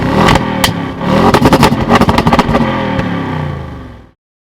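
A Volkswagen T-Roc drives past close by with a loud, steady engine roar and tyre rush that swells and fades, with rapid clattering pulses in the middle before it cuts off.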